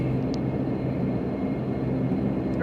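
A Majestic Q400 DH8D turboprop airliner in a flight simulator rumbles steadily with a droning engine hum during takeoff, constant and moderately loud with no voices.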